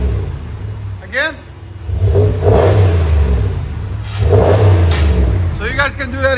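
A 2019 RAM 1500 with a 5.7L HEMI V8 and Flowmaster Super 10 dual exhaust revs twice, deep rumbling surges rising and falling close by, with people talking over the engine.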